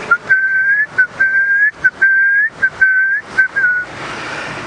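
A person whistles an imitation of guinea fowl contact calls, a series of short, clear, high piping phrases repeated with brief gaps, loud and close, followed by a moment of quiet background hiss.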